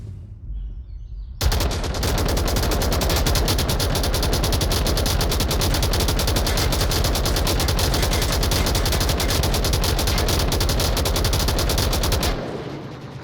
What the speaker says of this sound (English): Bit of suppressive fire there.